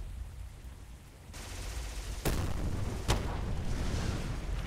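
Gunfire rings out in a WWII strategy video game: two sharp, loud shots or blasts stand out over a continuous rumbling battle background.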